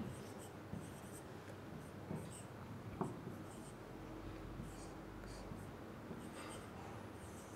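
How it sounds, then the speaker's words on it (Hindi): A matrix is written out on a classroom board, with soft, close scratches and taps of the writing tool coming in faint, irregular strokes against a quiet room. "तो देखिए एक और हम लोग लिखते हैं कुछ ऐसा"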